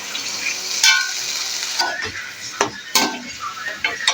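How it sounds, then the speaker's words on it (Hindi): Chicken with garlic ginger paste fries in a pan with a steady close sizzle, broken by repeated scraping clinks of a spoon stirring against the metal. "साथ हम इसमें चिकन डाल देंगे जो हमने वॉश करके रख दिया था और इसको अच्छी तरह से भूनते जाएंगे"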